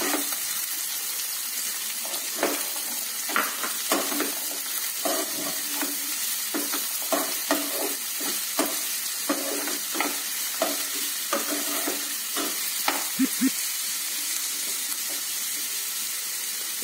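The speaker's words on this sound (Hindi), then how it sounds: "मैं सारी वेजिटेबल्स एक साथ ही मिक्स कर देता हूँ ताकि जल्दी से जल्दी हमारा ये कुक हो जाए।" Mixed vegetables shallow-frying in a pan give a steady close sizzle, broken by repeated scraping and clattering strokes as they are stirred, with no one speaking.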